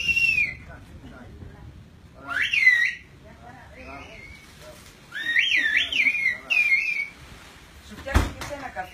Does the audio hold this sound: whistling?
yes